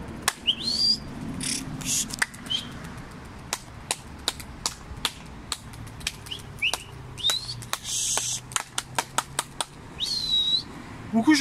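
Rapid clattering bursts of pigeon wingbeats come in repeated flurries as the birds take off and fly, with occasional chirps and whistles.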